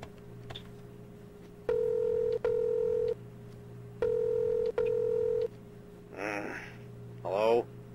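A phone number is keyed in a video game: paired touch-tone beeps sound in steady bursts over a low hum, then a couple of warbling electronic tones follow.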